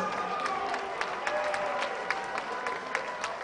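MMA event crowd in Columbus, Georgia applauding the heavyweight fighters after a first-round Kimura finish: dense, sustained clapping with scattered louder claps and some cheering, steady throughout.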